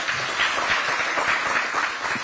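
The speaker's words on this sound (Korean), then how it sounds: "한 번 더 힘찬 박수 부탁드립니다." A crowd at a political campaign rally gives a round of applause: thick, continuous clapping at a steady, loud level from start to finish, with no clear pauses.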